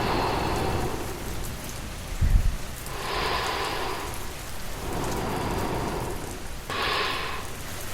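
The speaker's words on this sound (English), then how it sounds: "The rain does not rush. It simply falls." Steady rain falls on a surface in a calm storm, a continuous wash of drops with gentle swells in intensity and a brief low rumble like distant thunder, no voices present.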